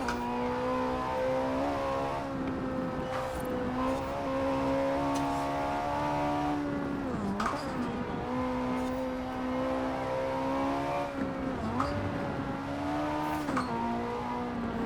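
Ferrari 458 Italia engine in Forza Horizon 4 racing against a Colossus, holding a loud, steady high-pitched drone with brief dips and rises as it shifts or lifts through corners, continuous for the whole stretch with no talk.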